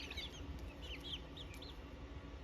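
Seven chickens, at least one with a very large comb, cluck softly in a basement coop, with short repeated calls over a steady hum and fan noise.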